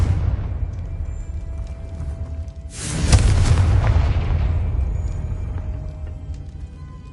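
Confringo spell explosion in the Hogwarts Legacy video game, a sudden loud booming blast that hits partway through, then rolls into a long rumbling decay over low game ambience.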